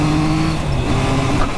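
A Triumph Trident motorcycle engine drones loud and close while the rider shifts through the gearbox, holding a steady low tone with a slight dip and recovery.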